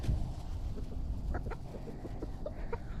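Backyard chickens cluck in short, scattered calls while pecking at food scraps, set against a low, steady rumble of background noise.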